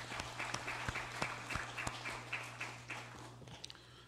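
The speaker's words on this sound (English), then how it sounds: "Let us give her a round of applause." Sparse applause from a small audience in a legislative session chamber, scattered individual claps over a steady low hum, fairly quiet and distant.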